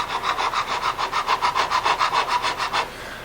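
A 300-grit fret recrowning file is drawn back and forth across a guitar fret on a Stratocaster neck. About fourteen even rasping strokes follow a steady rhythm up close, then the sound stops.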